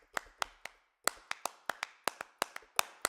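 Crisp handclaps from an 1980s-style Abbey Road drum recording, about a dozen sharp claps in a steady rhythm, close and bright, with a short pause near the start and nothing else playing.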